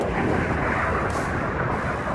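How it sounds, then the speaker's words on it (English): An electric RC model jet running on a lithium battery pack flies overhead, heard as a steady, wide roar that holds throughout without pause. "I hear the jet, but I can't see it."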